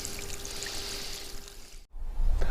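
Water pours from a can onto runner bean seed modules packed in a tray, a steady close trickling splash that breaks off briefly and then comes back heavier.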